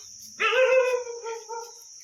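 A dog gives one loud bark near a house, followed by a short weaker trailing yelp, while a steady high cricket drone continues in the background.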